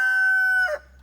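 A rooster lets out a single loud, close crow with a held tone that breaks off at the end, heard alone outdoors.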